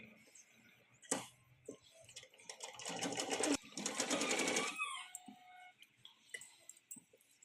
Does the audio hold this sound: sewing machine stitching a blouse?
yes